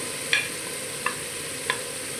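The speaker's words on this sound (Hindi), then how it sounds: "दालचीनी और बड़ी इलायची डाल देंगे" Cinnamon and black cardamom frying in a pan for a matar gosht dish: a soft, steady sizzle with three sharp clinks spaced evenly apart, and no voices.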